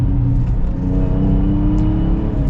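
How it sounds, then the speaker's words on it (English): Toyota FJ Cruiser engine blipped during a rev-match downshift, a loud, steady engine drone with a slight swell in revs, heard alone and up close. "Very easy to rev match downshift with this."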